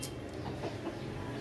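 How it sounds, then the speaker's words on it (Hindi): Rooster clucking outdoors on a Pakistani household yard, a few soft calls at moderate distance over steady background noise, no talking. "मुर्गे को बाहर रहने देता है"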